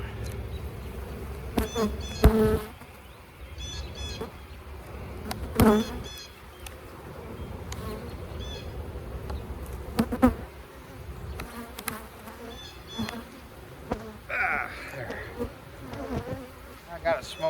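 Honeybees swarm around an open hive box during a spring inspection, a continuous close buzz with individual bees zipping loudly past at intervals and faint handling noises.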